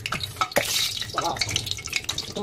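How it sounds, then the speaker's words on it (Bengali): Mutton sizzles in hot oil in a kadai while a utensil scrapes and stirs, with occasional clinks of metal against the pan, close up. "হালকা করে জাস্ট একটুখানি আমি শ্যালো ফ্রাইয়ের মতো করে নিয়েছি মাংসটা।"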